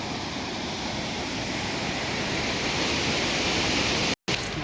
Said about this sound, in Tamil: தண்ணி அதிகமாக போயிட்டு இருக்கு, ரொம்ப ஃபாஸ்ட்டாக போயிட்டு இருக்கு தண்ணி ரொம்ப.